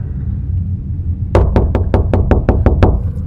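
Knocking on a door in a horror video game: after a quiet stretch, eight sharp, evenly spaced knocks ring out close and loud in a quick steady rhythm.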